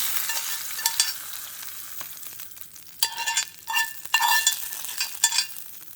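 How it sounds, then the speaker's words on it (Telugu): Spoon scraping and stirring a tempering into coconut chutney in a bowl, with soft sizzling residue and a few clinks, close by and no voices. "ఇప్పుడు ఈ పోపును తీసి ఆ చట్నీలో కలుపుకోవాలి"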